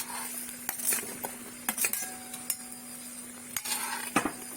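Potatoes and ash gourd stirred into duck curry in a pan: a spoon scrapes and clinks against the metal several times in irregular strokes, close and fairly quiet, with a low hum beneath.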